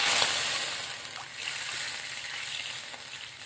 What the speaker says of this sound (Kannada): ಅದೇ ಎಣ್ಣೆಗೆ ಇವಾಗ ನಾನು ನೀರು ಹಾಕೋತೀನಿ ರೀ.